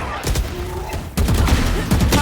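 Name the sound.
gunfire in the video game VALORANT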